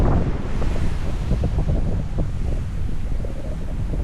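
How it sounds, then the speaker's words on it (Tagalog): Ocean waves crash and wash continuously at Dahican Beach in Mati, Davao Oriental, mixed with heavy wind buffeting the microphone; no one speaks. "Malalaki yung alon dito."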